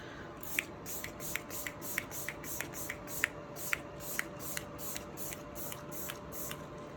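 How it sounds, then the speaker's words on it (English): A rapid, steady series of short hissing bursts of Tarte Double Duty Beauty setting spray, close up, one after another at an even rhythm over a quiet background. "Of course, the last step is using some setting spray."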